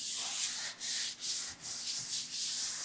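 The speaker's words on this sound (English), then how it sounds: "You got to scrub it enough to get the dirt and everything off of it." Close, quiet scrubbing with degreaser to lift dirt off a surface: a run of short, rhythmic rubbing strokes with brief pauses between them, and no voices.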